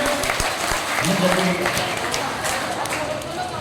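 Listeners at a Hindi poetry gathering clap together in a brief, continuous burst, while a voice talks faintly over the applause.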